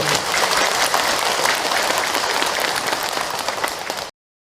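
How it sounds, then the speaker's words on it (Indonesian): An audience at a religious talk gives dense, lively applause for the ustaz, a loud continuous patter of many hands that cuts off abruptly at the end. "tepuk tangan untuk A.A. Hilman"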